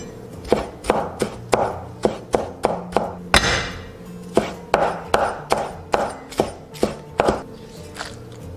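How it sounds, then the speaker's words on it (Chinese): Kitchen knife chopping scallion and ginger on a board for tomato-sauce prawns: a steady run of sharp, close knocks, about two per second, pausing briefly midway before resuming, with no talking. "准备切一些葱姜"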